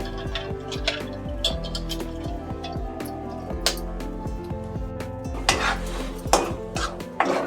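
Beaten eggs are stirred in a pot for egg rice on a low flame, with scattered clinks and scrapes of a utensil against the pot over a soft, tonal background.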